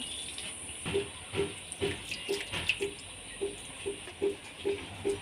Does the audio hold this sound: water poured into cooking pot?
yes